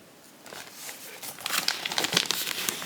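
A resealable plastic cross stitch kit bag crinkles and crackles as it is handled up close, the rustling growing busier and louder partway through, with no talk.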